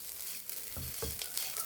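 Coconut being sautéed in a pan for bean thoran, a continuous close sizzle with a few soft spatula stirs and scrapes, no voices.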